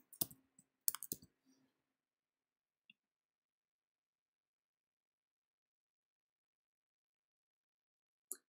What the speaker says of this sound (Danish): Jeg trykker her Enter Guest, og så skriver jeg noget andet.